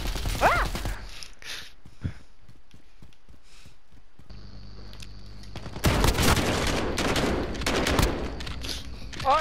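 Gunfire in Call of Duty: Modern Warfare, with scattered single shots, then sustained automatic bursts building loud near the end, mixed with game effects and brief voices.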